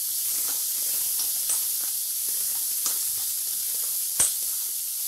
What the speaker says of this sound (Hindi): प्याज को हम भूनेंगे, यानी कि हल्का ब्राउन होने तक हमें भूनना है।